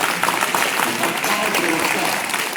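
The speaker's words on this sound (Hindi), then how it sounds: "भाई जी के लिए जोरदार तालियां" Audience applause at a yoga event in Basti District, a dense, steady clapping from a crowd that fills the whole stretch at even loudness, with no speech over it.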